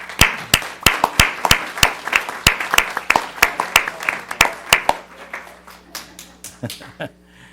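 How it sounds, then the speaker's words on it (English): A council meeting audience claps for a newly congratulated member: a steady run of sharp, close hand claps for about five seconds, then thinning to scattered claps and faint murmuring. "let's give him a round of applause."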